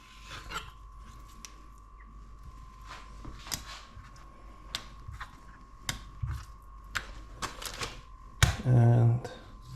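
A knife cutting chicken breast into thin strips on a cutting board, with a string of sharp, irregular taps against the board and a short louder burst of noise near the end.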